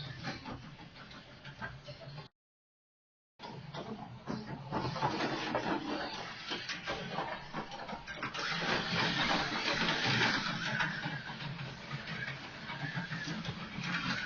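A Tyco slot car, a #23 1986 Fiero, runs laps on a track with a steady whirring buzz of motor and tires. The whir swells and fades as the car passes, and a brief silence breaks it early on.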